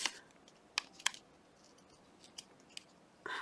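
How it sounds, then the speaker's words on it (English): Paper being cut with a pair of not very sharp craft scissors, close and fairly quiet: three or four distinct crisp snips spread across a few seconds, ending in a longer rasping cut. "These scissors are not great."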